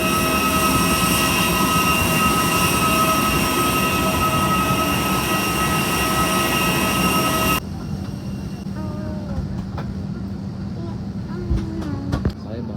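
A steady, loud engine roar fills the cabin on a flight to Chiang Rai, then drops abruptly to a quieter hum with a voice speaking over it.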